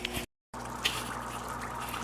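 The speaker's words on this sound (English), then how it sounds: "And there goes the bubbler." Steady soft bubbling and gurgling of liquid with occasional small plops, briefly cut to silence near the start before continuing.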